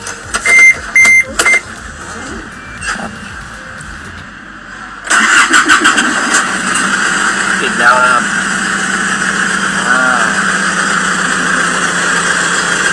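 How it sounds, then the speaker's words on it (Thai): Clicks and brief sounds, then the 2.5 L engine of a 2008 Isuzu SLX cranks and catches, settling into a steady idle. "เดี๋ยวเรามาลองฟังเสียงเครื่องกันบ้างนะครับ"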